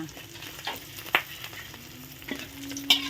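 Mackerel frying in hot oil: a steady, close sizzle and crackle with a few sharper pops and faint stirring clinks, no talking.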